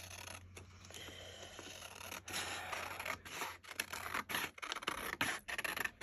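Scissors snip through a paper junk mail envelope in a quiet room, a run of close, crisp cuts and scratchy paper rustles with short pauses between them.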